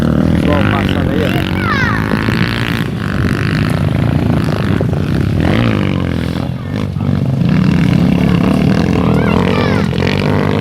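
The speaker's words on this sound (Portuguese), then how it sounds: "Ainda vem mais moto ainda" Motocross motorcycles riding past on a dirt trail in Tenente Ananias, Rio Grande do Norte, engines rising and fading as bikes go by one after another amid crowd noise and voices nearby.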